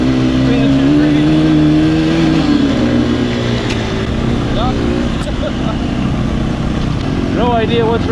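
A Honda XR100R dirt bike's engine revs on a wooded trail, its pitch climbing and falling as the rider shifts, with short bursts of throttle and wind noise up close; a rider's voice sounds briefly over it.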